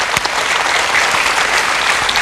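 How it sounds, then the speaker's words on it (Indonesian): Loud, dense applause from an audience at an Indonesian event marking International Day of Persons with Disabilities, steady clapping filling the whole moment with no pause. "Ini kita beri tepuk tangan yang meriah."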